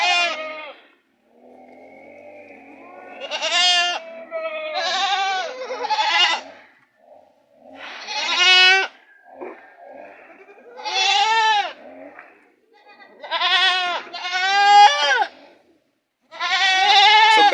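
Goats on a Jamaican farm bleat in a string of loud, close, quavering calls, several animals crying out in bursts with short pauses between them and no talk.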